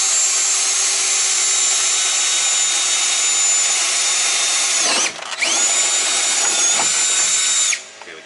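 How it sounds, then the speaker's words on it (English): A power drill bores holes into the hood of a 2020 Freightliner Cascadia truck for threaded inserts, a loud, close, high whine held for about five seconds, a brief dip, then another run before stopping. "So, drill some holes for these threaded inserts."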